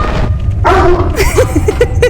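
Dog Nando in the Hugo video game, a few short yipping barks in quick succession, close and loud.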